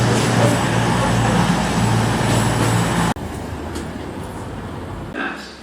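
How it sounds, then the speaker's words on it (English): A train stands or runs at the Newton Abbot station platform, giving a steady loud rumble with rail and wagon noise. It drops abruptly partway through to a quieter platform ambience, with no talking. "There is actually a train on the platform."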